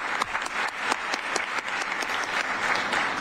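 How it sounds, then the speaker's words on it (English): An audience claps in steady, moderately distant applause at an outdoor post office building dedication ceremony, with no talking over it. "clap it up."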